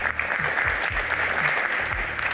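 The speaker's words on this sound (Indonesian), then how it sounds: "Boleh tepuk tangan buat kita semua" Audience applause at an Indonesian talk event, steady dense clapping filling the whole stretch with no speech over it.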